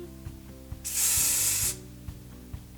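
Hairspray hisses from a can onto a fringe in one loud, close burst lasting under a second, framed by soft rhythmic taps and background music.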